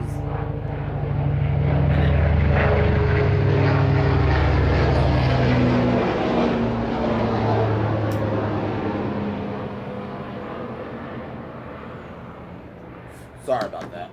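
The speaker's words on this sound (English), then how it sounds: "Sorry about that. Loud ass fucking helicopter" A loud aircraft drones close overhead, a steady rotor-like roar that swells, holds, then slowly fades as it passes.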